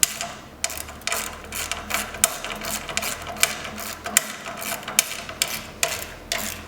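Tightening a nut on a brush clamp of a Tow and Collect Mini sweeper with a hand tool: a steady series of short, dry ratcheting or scraping strokes at a moderate level, close by, with no talking.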